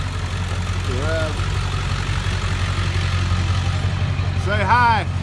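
A vehicle called the Rev pulls away towing a trailer: a steady low engine rumble runs throughout, with voices calling out briefly twice over it.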